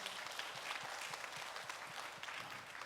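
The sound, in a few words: church congregation applause to encourage a family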